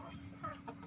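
A batik-patterned hen gives soft, low clucks over a steady background hum, faint and brief.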